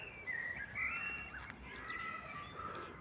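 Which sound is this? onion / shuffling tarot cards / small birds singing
small birds singing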